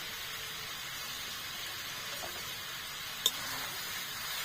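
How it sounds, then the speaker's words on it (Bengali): Ginger-garlic paste sautéing with ground coriander, cumin and chilli powder in a pan, a steady soft sizzle and hiss throughout with a single brief clink of a spoon near the end, no talking. "দিয়ে ভালো করে সব কষিয়ে নেব"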